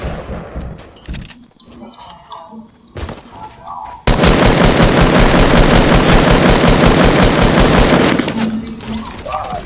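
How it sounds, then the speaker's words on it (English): Loud, sustained barrage of gunfire in the video game Fortnite, a dense rapid stream of shots lasting several seconds after scattered earlier shots and game noise. "I shot him like three times with a shotgun"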